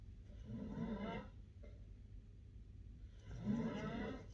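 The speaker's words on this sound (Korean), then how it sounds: "코골이 소리가 계속 바뀌어" A sleeping person snores in two slow, low rumbling breaths several seconds apart, faint and muffled in a quiet room, with no voices.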